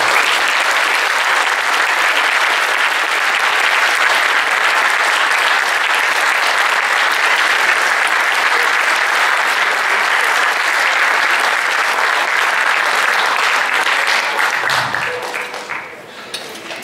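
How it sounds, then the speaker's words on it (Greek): Audience applauding at a book presentation inside an Athens cinema, a loud, dense, continuous wash of clapping from a full room that holds steady and then tapers off at the very end. "θα ήθελα ένα πολύ μεγάλο χειροκρότημα για το μεγάλο απόντα αλλά παρόντα της βραδιάς"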